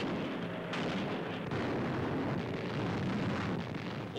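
1,000-pound aerial bombs strike a chemical plant that makes munitions, heard as a dense, continuous distant rumble of blasts with a sharper crack near the start. The sound is muffled and grainy, like an old wartime recording.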